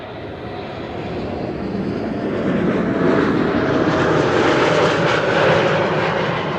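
An Airbus A321neo arriving at Amsterdam Schiphol Airport gives a loud, steady broadband engine roar that swells as it passes close by, with no voices.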